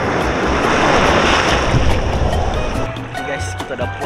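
Sea waves wash and break along a beach at Pulau Tioman, a broad continuous roar with some wind noise, and faint voices come through as the surf eases.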